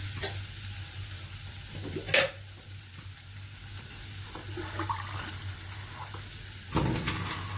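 Potato pepper masala sautéing in a pan, a low continuous sizzle broken by a few sharper scrapes of the spoon, close and quiet with no speech.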